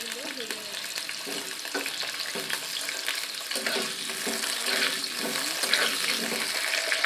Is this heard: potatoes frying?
yes